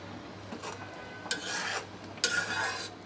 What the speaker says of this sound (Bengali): এবার আমি মিশিয়ে দিচ্ছি ভালোভাবে।